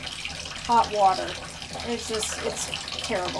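Bathroom faucet running hot water at full blast, a steady rushing gush under a person talking close by.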